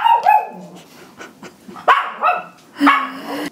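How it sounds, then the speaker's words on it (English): A pet dog barks in a kitchen, giving a handful of sharp, close barks and yips spread across a few seconds with short pauses between them, with no talk over them. "That's a good dog."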